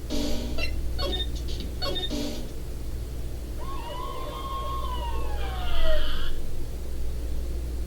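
A police siren from the Ace Attorney video game wails in rising and falling sweeps through the middle of the clip, swelling louder as it nears, after a few short electronic blips.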